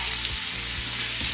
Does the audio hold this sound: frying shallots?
yes